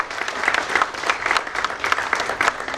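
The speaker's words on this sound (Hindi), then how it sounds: "एक बार भरपूर तालियां बजा दीजिए।" An audience at a Hindi literary gathering with Dr Kunwar Bechain and Smt Santosh Kunwar applauds warmly: close, sustained clapping with a crisp, uneven pulse of individual claps running the whole stretch, no talking over it.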